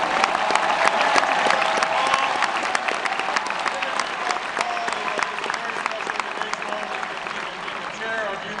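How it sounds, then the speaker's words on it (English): Sustained applause from a crowd at a Youth for Liberty Ron Paul rally at Michigan State University, dense steady clapping that fills the room and fades slightly toward the end. "So give yourselves a round of applause"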